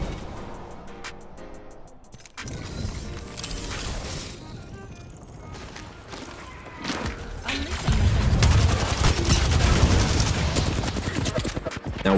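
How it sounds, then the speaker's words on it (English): Grenades and gunfire in an Apex Legends match: bursts of shots, clattering mechanisms and booming blasts that build into a loud, dense barrage toward the end, with talk over the top. "you can see me utilizing my nades"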